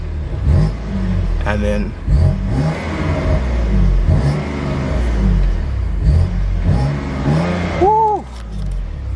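A BMW M2 Competition engine revved in neutral while parked, with several sharp blips rising and falling in quick succession, loud and close, followed by a longer climbing rev near the end; a person speaks briefly.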